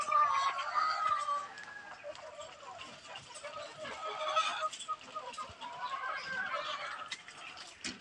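Breeder chickens clucking and squawking steadily throughout, several birds close by with overlapping calls and no talking.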